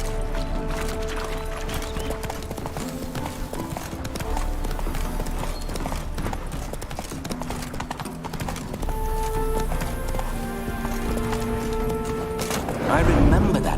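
Horse hooves clip-clop steadily in The Witcher 3: Hearts of Stone, a continuous rhythmic walking beat under game music, with characters talking over it throughout.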